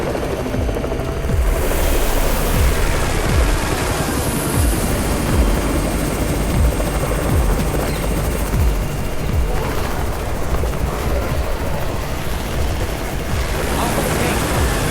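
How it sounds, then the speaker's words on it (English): A helicopter's rotor in the video game Undawn thumps loudly and continuously nearby, its rhythmic chopping steady throughout with a dense roar of engine noise. "It's the Raven's chopper!"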